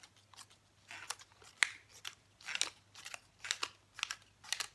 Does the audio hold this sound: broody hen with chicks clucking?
no